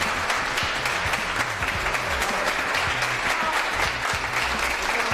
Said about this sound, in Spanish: este largo aplauso que están ustedes escuchando